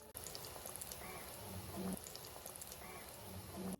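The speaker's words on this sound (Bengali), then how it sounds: "কড়াইয়ের তেলটা ভালোভাবে গরম হয়ে আসলে ডিম চপগুলো একটা একটা করে দিয়ে দিতে হবে" Egg chops deep-frying in hot oil in a wok, a faint, continuous bubbling sizzle with soft popping throughout and no talk.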